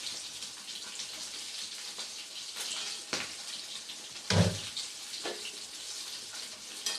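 A hilsa fish head goes into a pan of Malabar spinach cooking the traditional Bengali way. Soft sizzling and frying run throughout, with one louder splash and thump about halfway in and a few lighter clatters, and no one speaking.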